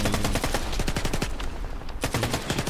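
Rapid bursts of automatic gunfire from the video game Stalker 2, sharp repeated shots in a steady rattle, briefly pausing before firing resumes.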